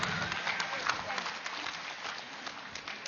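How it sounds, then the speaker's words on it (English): Audience applause greets the Valley Tech Team as they come forward at a PMC Global event, a steady wash of many hands clapping at moderate level with some crowd noise mixed in. "Let us give a big round of applause for the team."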